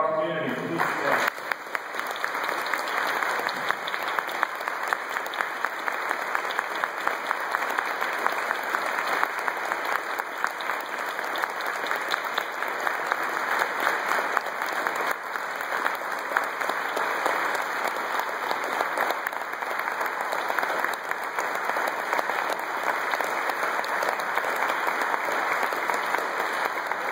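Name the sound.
congregation applauding the elders at a church jubilee liturgy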